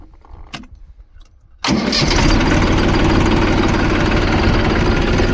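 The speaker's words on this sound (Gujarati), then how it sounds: "કંઈ ટ્રેક્ટર ચાલુ." A tractor engine is started in a farm field: a few quiet seconds with faint knocks, then the engine abruptly catches and settles into a loud, close, steady running rumble.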